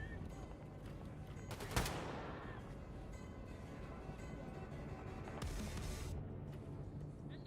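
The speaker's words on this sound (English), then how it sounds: "Guns, guns, guns." Gunfire in the game Mein Leben, a sharp shot cracking out near the start and fading away, followed by a quieter burst later against a steady noisy background.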